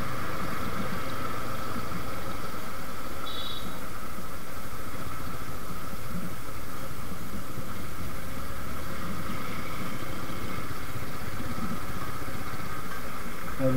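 A Suzuki Gixxer motorcycle engine runs at a steady low idle, a continuous broadband hum and rumble with no change in pitch throughout and no talking.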